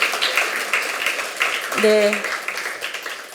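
Applause from the audience at an ecology forum on nature's rights and the DMZ, a broad wash of clapping running steadily, with a voice briefly speaking over it.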